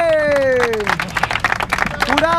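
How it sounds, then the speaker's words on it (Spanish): Audience clapping and cheering at a freestyle rap battle (Sinvozsal qualifier quarterfinal) breaks out under a loud, excited voice, with a scattered burst of claps building in the middle of the short moment. "¡Aplauso, che!"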